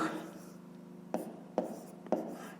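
Pen writing numbers by hand while working a fifth-grade maths exercise: a soft continuous scratch with three sharp, distinct stroke taps spaced about half a second apart, close and fairly quiet.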